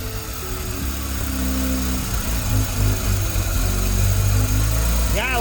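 A Mazda RX7 FB rotary engine idles steadily up close, a low droning hum with a faint pulsing rhythm throughout; no one talks over it.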